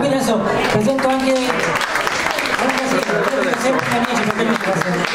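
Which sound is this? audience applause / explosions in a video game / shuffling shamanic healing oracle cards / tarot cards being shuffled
audience applause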